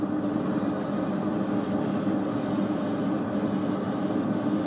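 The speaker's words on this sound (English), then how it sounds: "I am using the Black Widow airbrush by Spectrum." A Spectrum Black Widow airbrush sprays paint in a steady, loud, continuous hiss with faint regular pulses, close to the microphone and with no voices.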